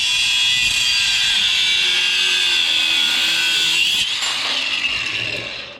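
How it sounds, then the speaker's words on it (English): A power tool grinds through a metal stud on a Jaguar MKII, a loud, close, sustained high whine that holds steady and tapers off near the end, with no talk. "let's get our little baby here and cut that stud, and the sparks are going away"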